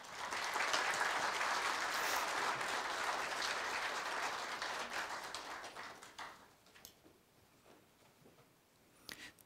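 An audience at a university staff retirement ceremony claps warmly for about six seconds, then the applause thins to a few scattered claps and quiet shuffling, with one last clap near the end.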